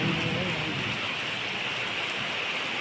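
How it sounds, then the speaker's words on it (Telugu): A strong downpour falls in Hyderabad in the summer season, an even, unbroken wash of rain spattering nearby surfaces, loud and steady, with a faint voice briefly underneath at the start. "ఎంత పెద్దగా వస్తుందో వాన చూడండి ఫ్రెండ్స్"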